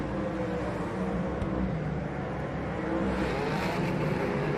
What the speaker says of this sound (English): Tim Ross gets his car fired up